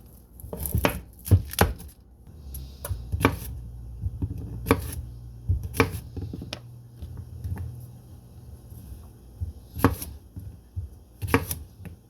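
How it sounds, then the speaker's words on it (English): A knife chops through a cucumber on a board in a kitchen, giving sharp, irregular knocks that come singly and in quick pairs, with quieter handling sounds and soft background noise between the cuts. "I'm also going to chop up a cucumber"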